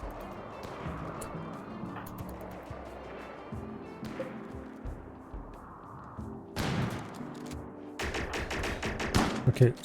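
Gunfire in the video game RimWorld, rapid volleys of sharp shots crackling at moderate volume, growing into dense, fast bursts toward the end.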